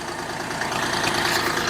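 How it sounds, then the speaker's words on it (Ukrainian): A tractor engine idles steadily and close by, a low, even rumble with a slight rhythmic chug throughout the short stretch. "Так що зараз заганяємо тракторця і відправляємо, хай працює."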